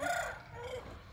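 A rooster on a village farm gives a short, fairly distant crow that fades out quickly, with no talking over it.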